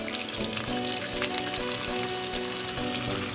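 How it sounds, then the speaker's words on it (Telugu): Egg curry gravy fries in a pan with a steady, dense sizzle and crackle that holds unbroken throughout, close and fairly loud. "ఇది ఇలా ఫ్రై చేసుకోవాలండి."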